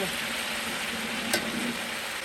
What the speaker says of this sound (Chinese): 排骨，炒一下，讓肉变緊緻一點，不要那麼鬆散。